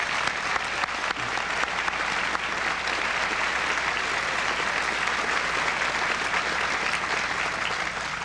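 Sustained applause from a large crowd, dense and even clapping that holds steady throughout without pause.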